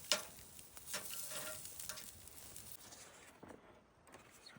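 Chicken thighs sizzling on a grill over a campfire just after being flipped, a soft steady hiss with a sharper crackle at the start, fading slightly toward the end.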